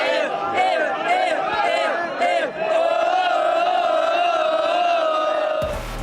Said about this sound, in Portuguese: No início, a torcida fez festa para eles.